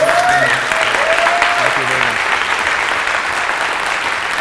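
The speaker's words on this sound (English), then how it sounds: "Big applause again" A conference audience at a JavaScript event bursts into sustained applause after a talk, a dense continuous wash of clapping, with a brief voice audible at the start.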